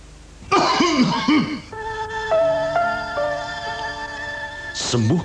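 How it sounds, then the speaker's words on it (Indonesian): A cough and throat clearing from a 1981 Indonesian TV advertisement for Venergan cough remedy, several short harsh bursts up front, followed by a sustained tonal jingle and a brief breathy sound near the end. "Sembuhkan batuk Anda dengan cara benar."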